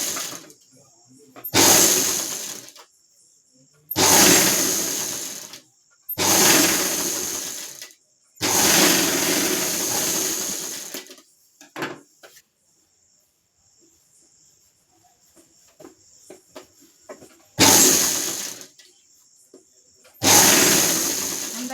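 A sewing machine stitches a simple blouse in several loud, close bursts of a few seconds each, its whirring needle run separated by pauses with faint handling noise, ending in two more short runs.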